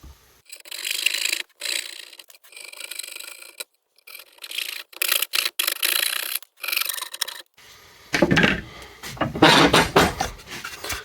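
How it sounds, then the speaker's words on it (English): Hand tools cutting and filing tails for a wooden dovetail joint, with steady back-and-forth rasping strokes broken by brief pauses, then a denser, harsher stretch of sawing or filing near the end, close and fairly loud. "So now I'm going to cut these out, cut these tails out."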